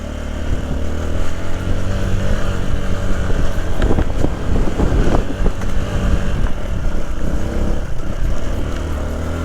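Vehicle engine labouring in first gear up a steep paved village road, loud and steady, with wind buffeting the microphone and rattling bumps throughout.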